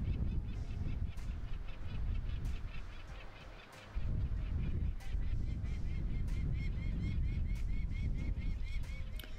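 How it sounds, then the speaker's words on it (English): A peregrine falcon calls in a rapid series of sharp, harsh repeated cries over a rumbling background, fairly loud and close. "My next bird is a peregrine falcon."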